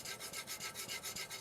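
A Shirogami white-steel Nakiri blade strokes rhythmically across a Japanese natural whetstone (Amakusa and Tanaka Kyoto stones), steady back-and-forth rasping passes, about seven in quick succession, close and even.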